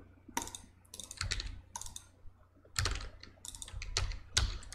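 Someone types on a computer keyboard that keeps skipping letters, producing bursts of close clicking keystrokes with short pauses between runs.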